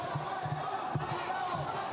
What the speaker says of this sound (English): 2 straight rights, and the crowd reacts.